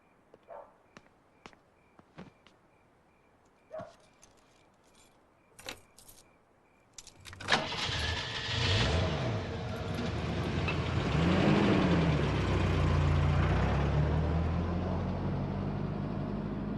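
Keys jangle in several short bursts, then a car engine turns over and starts, settling into a loud, steady running rumble as the car pulls away and drives, with no talking.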